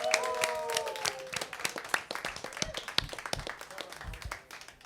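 Scattered, fairly close clapping from a comedy show audience welcoming a comedian to the stage, with a brief voice and some cheering at the start, then thinning into sparse individual claps.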